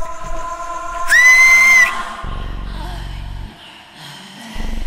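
A person gives one loud, shrill whistle that sweeps sharply upward and then holds a steady high note for under a second, followed by low rumbling background noise.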